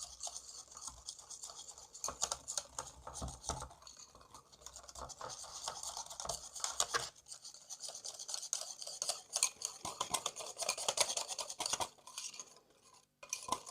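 A spoon stirs 120 ml of milk into a breakfast bowl, making a steady scraping and rubbing sound against the bowl for about fourteen seconds, close up and continuous with brief pauses.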